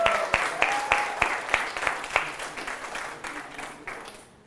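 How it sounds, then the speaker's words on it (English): Audience applause at a live leadership presentation in Miami, a burst of clapping with a few sharp accented claps that gradually dies away. "Give another round of applause."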